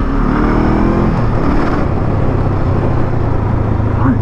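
A Honda CL500 motorcycle engine droning and revving on rough off-road terrain, a loud, close, continuous engine rumble with swelling throttle.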